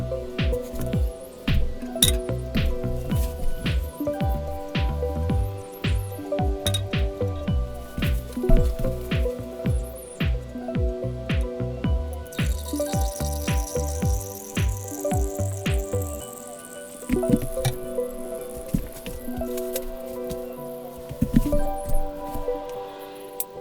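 Fluid drains from a snowblower, a busy stream of small drips and clinks into a container that stays rapid and close throughout before slowing and thinning near the end.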